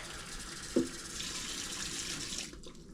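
Hot water poured into a kitchen sink makes a steady close splash and gush, starting with a brief clunk and running for a couple of seconds before cutting off abruptly; no one talks.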